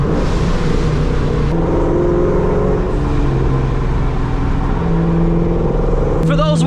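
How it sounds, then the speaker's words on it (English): Ford Mustang fitted with an off-road X-pipe and Borla Stinger exhausts, its engine droning loud and steady through the run of downshifts, with a sharper burst near the end. "I have an off-road X-Pipe paired up with a set of Borla Stingers. Downshifts."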